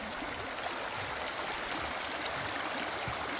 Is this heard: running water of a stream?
yes